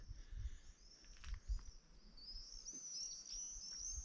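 Birds chirp and tweet at sunset in the overgrown Chernobyl exclusion zone, with repeated high calls and trills that grow more frequent in the second half over a faint low outdoor rumble.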